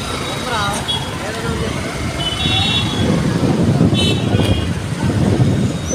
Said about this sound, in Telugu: ఇప్పుడైతే లారీ అయితే వెళ్తుంది.